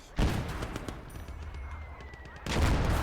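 Artillery guns firing in a video game battle, rapid heavy bursts of gunfire at the start and again at the end with a dense, loud clatter of shots between.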